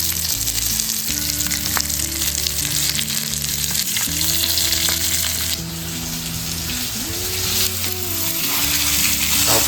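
Stuffed pomfret fish frying in a pan, a loud, steady crackling sizzle throughout with shifting oily hiss and faint tonal hum beneath, close and uninterrupted, no talk.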